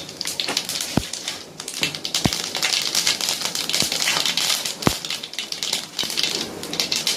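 Mustard seeds spluttering in hot oil, a dense close crackle and hiss with a handful of sharp pops scattered through it.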